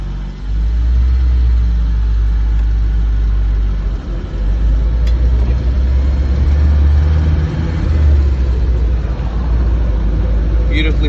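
A 1993 Land Rover Defender 110 engine rumbles deeply and close as the vehicle is shifted into first gear and pulls away, the low drone swelling and dipping with throttle, with occasional speech over it.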